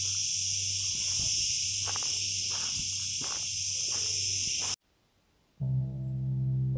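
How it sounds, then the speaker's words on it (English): Insects sing in the Maltese Islands: a steady, loud, high buzzing with a pulsing rhythm runs for several seconds over a low drone. It cuts off abruptly, then a different, lower harmonic insect song starts after a short pause. "cicadas aren't the only insects which sing in the Maltese Islands"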